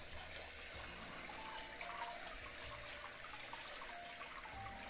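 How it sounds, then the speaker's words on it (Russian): Blanched squid and hot water are poured out, giving a soft, continuous watery splashing and trickling that stays fairly quiet and steady for five seconds, with no talking. "Можно снимать и выливать в воду."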